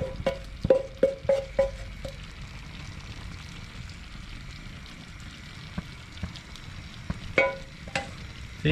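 Fried traíra fish pieces go into a clay pot of seasoning and are stirred, giving several scraping, clacking knocks early, a low sizzle in between, and a few more knocks near the end.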